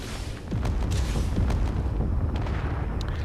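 Missile launchers on a gunship in the Space Engineers game fire in a rapid series of heavy booming launches and blasts, loud and close, with rumbling low end throughout.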